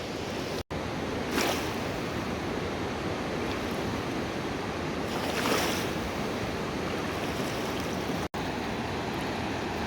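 A swollen, fast-flowing river after heavy rain in the Gesäuse near Admont, a steady broadband rushing roar that stays loud and continuous throughout, with no voices.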